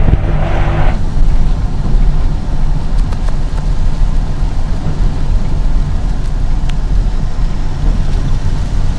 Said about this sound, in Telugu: వర్షాలు బీభత్సంగా పడుతున్నాయి తెలంగాణలో